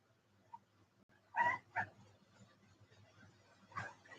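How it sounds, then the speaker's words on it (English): A puppy gives a few short whimpers and yips with a couple of louder barks, close by in a quiet indoor room, the sounds spaced out with pauses between them. "I got a puppy"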